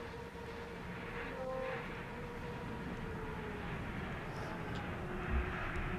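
Subway train pulling into a platform on an automatic metro line in a video game, a steady mechanical rumble and whine holding level throughout with a faint rising tone, no talk.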